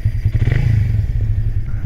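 A Honda Raider 150 Fi motorcycle with a modified airbox intake revs loudly up close, its rough, pulsing engine note rising briefly and then settling over about two seconds.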